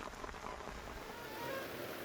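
Dense, steady patter of unseasonal heavy rain falling in Bettiah, Bihar, a continuous wash of drops with a low rumble underneath, fairly quiet and unbroken.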